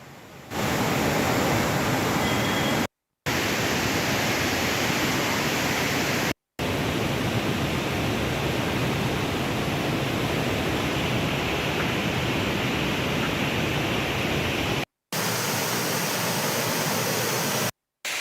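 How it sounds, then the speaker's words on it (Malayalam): Athirappilly waterfall, swollen by monsoon floodwater, roars as a loud, dense, continuous rush of crashing water, steady throughout apart from a few abrupt cuts to silence. "കാലവർഷത്തിന്റെ കലിതുള്ളലിൽ അതിരപ്പള്ളി വെള്ളച്ചാട്ടം രൗദ്രഭാവത്തിലായി"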